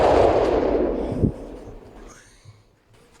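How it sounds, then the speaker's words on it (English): A carbide-filled barrel blows up outdoors with a loud, sharp blast and long booming decay rolling away over several seconds, ending in quieter rustles and a final small knock. "That was crazy explosion."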